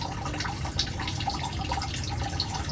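Water gurgling through Blumat auto-watering tubing as trapped air is bled out, a continuous close bubbling and trickling with small irregular glugs and drips.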